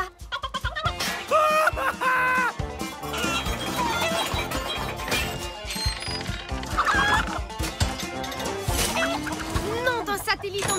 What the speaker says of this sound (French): Ce n'est plus une, mais 3 poules qu'on a en cavale.